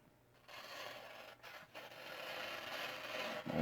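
A Mcusta MC-125D folding knife from Seki, Japan slices through the corner of a sheet of newspaper, a quiet dry rasping rub lasting a few seconds with brief breaks, close and alone.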